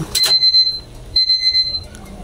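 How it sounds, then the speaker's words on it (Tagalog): A kitchen timer beeps twice with high electronic tones at the end of pasta boiling, two short bursts of repeated beeps close to the mic over quiet background noise. "Timer natin 8 minutes guys."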